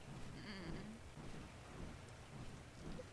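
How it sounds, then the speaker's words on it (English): Rain and rolling thunder in the video game ARK Mobile: a dense, steady downpour hiss with low rumbling thunder underneath, quiet overall and continuous for the whole stretch. "Well, at least it's raining again."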